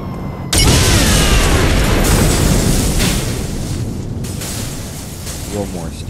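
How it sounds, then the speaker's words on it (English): A loud explosion in Saints Row 3 bursts suddenly, followed by a long roaring, crackling rumble that slowly fades. "See how many more explosions we can cause."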